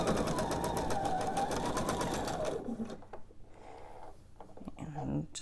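Sewing machine chain piecing quilt pieces, a fast steady needle stitching run for about two and a half seconds, close and loud, then stopping, followed by quiet handling of fabric and a soft voice.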